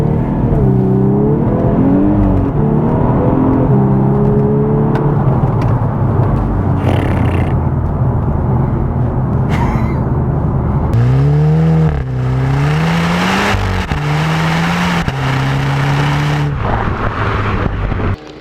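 A 2014 VW Scirocco R engine pulls hard through several gears on a test drive, each rising rev sweep cut short by a shift before climbing again, loud and close with steady road and wind roar underneath.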